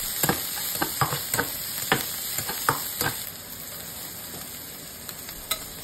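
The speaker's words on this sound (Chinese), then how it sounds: "然后下入葱蒜干辣椒，" Scallion, garlic and dried chili stir-fried in a hot oiled wok give a steady close sizzle, broken by repeated sharp spatula scrapes and clanks against the metal in an irregular rhythm, with no voices.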